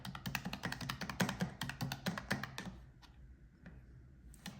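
Rapid clicky keystrokes on a portable USB numeric keypad plugged into a laptop, a dense run of close taps for about three seconds, then a few isolated presses with quiet gaps.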